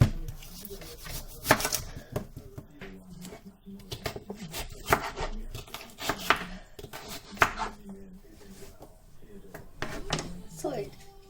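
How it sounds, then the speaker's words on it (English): Knife chopping diced potatoes on a board for an aubergine and potato curry, irregular close taps and scrapes spread through the clip, with a person talking intermittently over the work. "And now that I've diced my potatoes, they go straight in the curry mixture."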